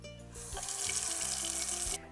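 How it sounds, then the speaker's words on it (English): Tap water runs steadily from a faucet into a cooking pan at a kitchen sink, a continuous, close, hissing splash that stops abruptly near the end. "We're going to put 1 inch of water in the pan"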